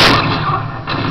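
Gunfire in the video game Enter the Matrix: a loud, dense burst of shots fills the whole second with broadband crackle and no voices.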